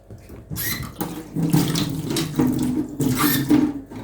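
Water runs steadily from a kitchen tap and is poured to mix shawarma bread dough at home, a continuous close splashing flow that swells and dips over several seconds, with no talking.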